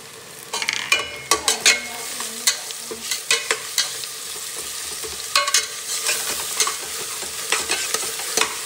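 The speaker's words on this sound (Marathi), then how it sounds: "त्याच्यामध्ये आपण आहे ना ही वाटलेला मसाला, मिरची, लसूण आणि अद्रक हा टाकणार आहे आणि हा पण फ्राय करून घेणार चांगला" Ground chili, garlic and ginger masala frying with onions in a pan, a steady low sizzle punctuated by repeated scraping stirs of a spatula in irregular bursts, close-up and fairly quiet with no talking.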